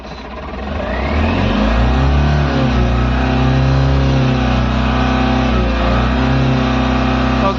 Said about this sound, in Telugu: వెహికల్ స్టార్ట్ చేసి క్లచ్ మీద కాలు పెట్టి క్లచ్ ప్రెస్ చేసి గేర్ వేసి ఎక్సిలేటర్ ఎంత చేసినా కూడా వెహికల్ అనేది ఒక ఇంచు కూడా మూవ్ కావట్లేదు